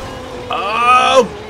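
In the video game Forza Horizon 2, a car drifts with a sustained, high-pitched tire squeal that holds for under a second and then drops off, over a low steady engine hum.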